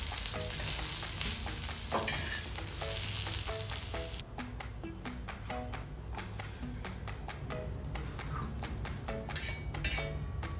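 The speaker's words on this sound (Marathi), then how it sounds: "आपण थोडं कांद्यात तेल टाकूया, म्हणजे कांदा चांगला लालसर भाजेल।" Onion frying in oil for a tuna curry with black spices: a loud, dense sizzle at first that drops to a softer crackle, with light clinks and stirring scrapes from the pan.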